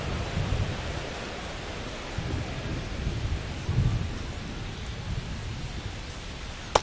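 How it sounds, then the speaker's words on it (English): Rain pours steadily over a baseball field with low rumbles of thunder rolling beneath the hiss, a dense, continuous downpour with a brief sharp crack at the end. "We'll see how well the field holds up with the way the rain is coming down."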